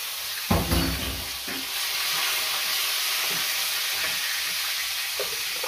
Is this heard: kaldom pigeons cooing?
no